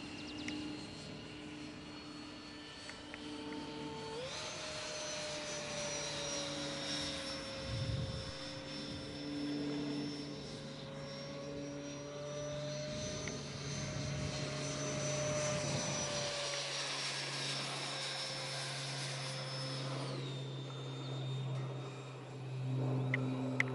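An FMS F-104 Starfighter RC model jet with a modified wing makes a steady high-speed pass, its turbine whine rising and falling in pitch as it flies by at a moderate distance, with no voices.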